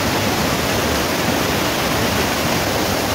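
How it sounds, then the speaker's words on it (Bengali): Kanda Falls, a waterfall in snow-covered North Sikkim near Lachung, gives a loud, dense, unbroken roar heard up close, with no voices. "আর এই হলো ঝর্ণাটা দেখো,"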